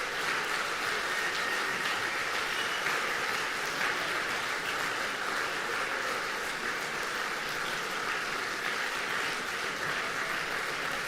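A concert audience at a faculty new-music concert keeps up long, dense, steady applause, a continuous even roar of many hands clapping with no voices.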